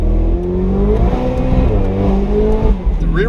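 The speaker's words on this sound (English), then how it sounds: "you can really hear those turbos just sucking in that air" Turbocharged V6 sports car, a rear-wheel-drive Mustang of 600-plus horsepower, accelerating hard in Las Vegas; a loud, close engine rises and shifts through gears with a dense rumble, while a voice talks faintly underneath.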